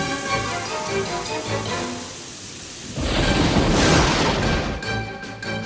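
Thunder for a stormy cartoon bedtime story, a low rumbling roll that swells into a louder, sustained crash partway through, with rain-like hiss behind it and no voices.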